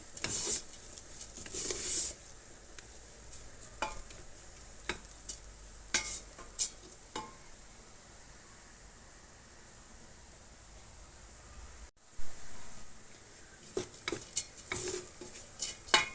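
Flour and garlic pieces being roasted in a pot, heard as quiet stirring scrapes and clinks over a faint, steady sizzle, with a brief pause near the end before the stirring resumes.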